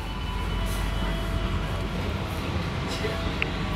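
Steady low rumble and rolling hum inside the passenger cabin of a Jayabaya economy train in motion, a constant broadband drone with faint rattles throughout.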